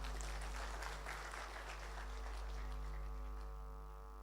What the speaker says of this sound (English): Please, can we give sir a big round of applause?